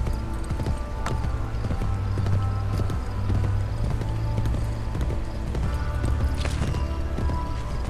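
Horse hooves clip-clop in Assassin's Creed Brotherhood, a loud, continuous trotting rhythm of sharp hoof strikes over layered game ambience, with no talking.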